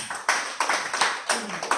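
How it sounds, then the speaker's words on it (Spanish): A church congregation claps hands together in a quick, loud rhythm of sharp bursts, with faint voices mixed in. "Dale palmas a Jesús bien fuerte"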